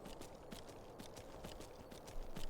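Horse hooves in Skyrim clip-clopping in a fast, even rhythm on the ground, a steady trot of sharp repeated strikes, quiet and close with no speech.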